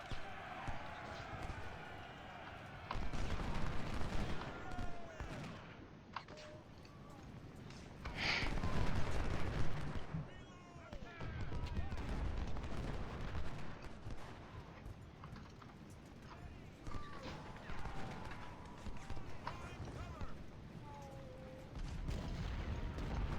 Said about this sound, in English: Let's move up and shoot this enemy artillery battery.